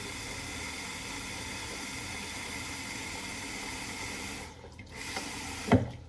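Tap water running steadily into a pot for boxed macaroni and cheese, a constant hissing flow that cuts off near the end, followed by a couple of brief clunks.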